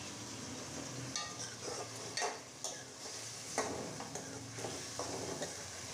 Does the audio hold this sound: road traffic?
no